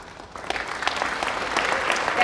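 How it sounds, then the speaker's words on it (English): An audience claps, the applause starting scattered and building into steady, moderately close clapping over a couple of seconds. "you're allowed to clap for yourself, Neil"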